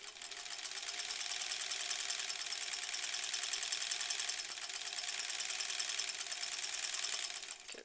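A sewing machine stitching fabric strips for a quilt border, running steadily for the whole stretch with a fine, even buzz, moderately quiet and close, with no talking.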